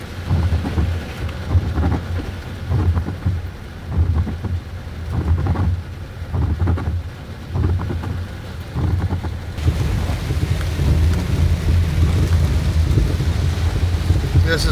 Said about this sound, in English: They got the rain so hard that the streets couldn't handle it, so it started pulling up on the street.